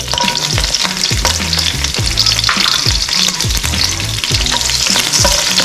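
Chili, salt and crushed garlic are stir-fried in a wok: a loud, constant sizzle over rhythmic metal clanks and scrapes of the spatula against the pan, with no talking.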